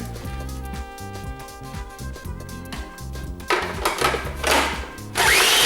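A food processor whirs as it chops leftover chocolate cake pieces into fine crumbs, a loud steady blending drone that builds and grows harsher toward the end, with no talking.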